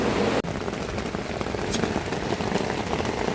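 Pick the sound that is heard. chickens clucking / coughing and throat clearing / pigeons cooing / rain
rain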